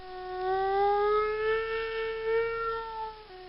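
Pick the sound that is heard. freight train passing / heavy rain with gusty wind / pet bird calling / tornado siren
tornado siren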